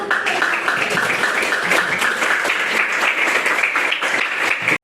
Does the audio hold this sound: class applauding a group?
yes